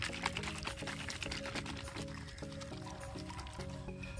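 Liquid pesticide mix sloshing as a small handheld sprayer for polybag chili plants is shaken, a continuous close rhythmic swishing and gurgling with repeated regular pulses.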